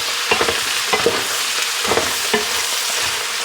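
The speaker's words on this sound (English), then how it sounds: "Give it a quick stir." Split pea soup base sizzling in a pan while being stirred, a constant frying hiss with several soft scraping knocks of the spoon against the pan, close up.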